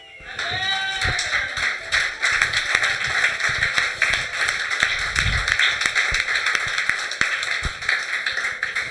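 A church congregation bursts into applause after a French-language sermon, a dense, lively clapping that swells after the first second and carries on steadily with a few sharper individual claps.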